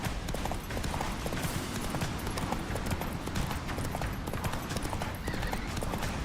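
Galloping horse in the video game Witcher 3, rapid continuous hoofbeats at a fast rhythm, close and prominent over dense game ambience and music, with a possible whinny mixed in.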